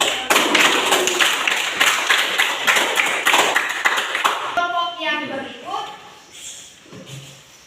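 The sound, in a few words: audience applause after class presentation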